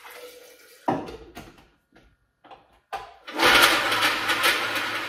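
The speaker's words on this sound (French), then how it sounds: "Et un grand verre d'eau." Water from a large glass poured into a blender jar, starting with a few splashes and knocks and then a steady, loud rushing pour in the last seconds, close up.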